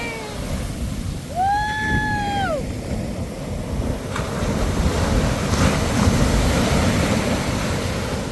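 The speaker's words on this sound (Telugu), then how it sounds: "అలా వచ్చి అలలు తాకుతూ ఉంటే చాలా బాగుంది చూడండి" Ocean surf washes in with a continuous broad rushing roar, swelling slightly louder later; a brief whining tone rises and falls early on.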